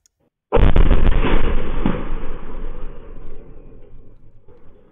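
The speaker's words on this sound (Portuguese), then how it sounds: "Foi uma explosão significativa" A sudden loud blast from an explosive-laden drone erupts after brief silence, followed by a long rumbling roar that slowly fades over several seconds.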